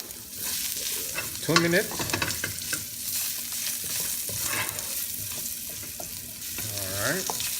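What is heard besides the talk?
ginger frying in a pan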